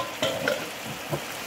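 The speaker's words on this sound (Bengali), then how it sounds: "চিনি দিয়ে একটু নেড়ে নেব।" Sugar being stirred into food in a frying pan, a few soft scraping strokes over a faint low sizzle, close and quiet with no talking.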